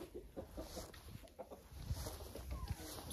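Soft clucking from a rooster with low, scattered calls over a faint outdoor background; no talking.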